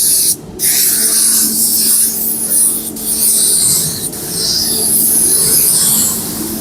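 Spray gun laying a paint coat across panels, a steady broad hiss that runs almost unbroken and close, with brief dips and pauses between passes.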